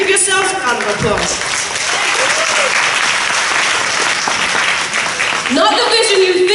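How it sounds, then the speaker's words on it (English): At a faith-themed speech, the audience breaks into a loud, sustained round of applause lasting several seconds, with the speaker's voice just before and after it. "give yourselves a round of applause"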